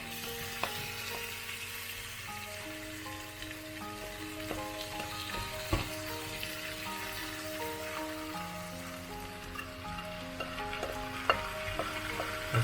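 Rice and tuna sizzle in a hot pan over high heat, a continuous crackling fry broken by the scrape and clatter of stirring, with faint steady tones underneath.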